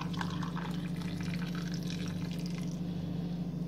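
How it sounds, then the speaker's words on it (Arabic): Water pours steadily into a jar of small pickled onions, a continuous close trickle and fill sound over a low constant hum. "هتلاقي الميه كده بتنزل مني"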